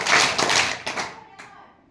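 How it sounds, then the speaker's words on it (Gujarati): A class of young children claps in unison, with a dense cluster of claps followed by a later lone clap, all fading out, and faint voices underneath. "બધાએ એક સાથે તાળી પાડવાની છે."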